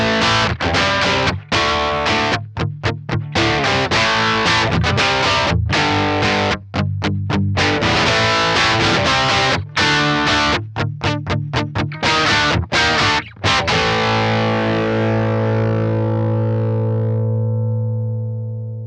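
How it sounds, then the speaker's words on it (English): Electric guitar distortion through a DSM Humboldt Simplifier amp-simulator pedal, loud and continuous with choppy palm-muted chugs and stops, ending on a sustained ringing chord that fades out. "Let's listen to the distortion."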